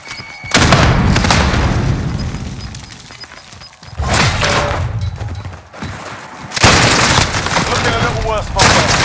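Call of Duty: Modern Warfare combat in which a thrown grenade explodes amid gunfire: loud booming blasts and bursts of rapid shots arrive in three heavy waves, separated by brief quieter gaps.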